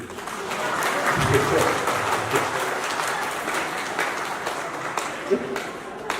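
A large crowd at a Nepali political rally claps steadily throughout, a dense sustained wash of applause with voices mixed faintly underneath.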